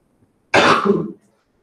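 A single harsh cough from someone getting over a cold, close and loud, lasting well under a second, with quiet before and after.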